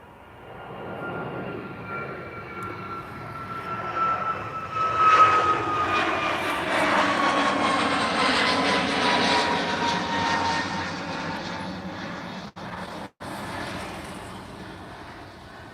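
A Ryanair airliner taxis slowly at Lisbon airport, its jet engines giving a steady, broad rumble and whine that swells in the middle and holds at a moderate distance, with no talk.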